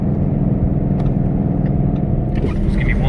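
Ford car engine with a Cobra Jet intake manifold idling steadily, a close, deep, continuous rumble with faint interior noises and no talk over it.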